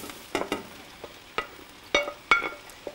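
Green peppers tumbling into a pot of sweating onions and being stirred for chili soup, with a few scattered scraping and clattering stir strokes and soft sizzle, close and fairly quiet, no talking.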